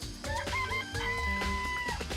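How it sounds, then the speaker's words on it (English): Chickens clucking and crowing in a coop in the video game Danganronpa, a busy layered burst of fowl calls with tonal clucks over a steady low hum, alone and fairly close. "I remember there were some chickens in the chicken coop."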